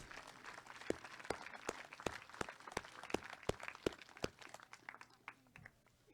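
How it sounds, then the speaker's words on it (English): Applause from a graduation audience at a 2020 North Miami ceremony, steady crowd clapping with sharp individual claps standing out, fading toward the end. "Another round of applause for Donovan."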